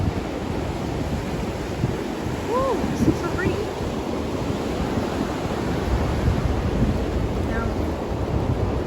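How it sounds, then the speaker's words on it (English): Atlantic Ocean waves and surf on the coast of Dominica make a steady, broad wash of noise with some wind buffeting, while people talk over it close by. "Oh, it's the Atlantic Ocean"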